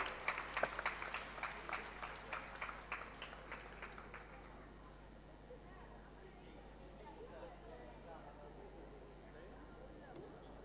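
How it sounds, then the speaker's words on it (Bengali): An audience claps in a ceremonial reception hall, loud rhythmic applause for the first few seconds that thins and fades into a low murmuring room background. "সেই ওয়ান অ্যান্ড অনলি অর্পণ কুমার শর্মার জন্য একটা জোরে হাততালি।"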